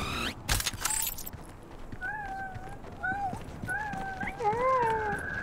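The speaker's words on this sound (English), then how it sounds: "Sound like cats." In the video game Journey To The Savage Planet, creatures sounding like cats give a series of short, wavering meow-like calls in quick succession, moderately loud, after a sharp burst of other game noise at the start.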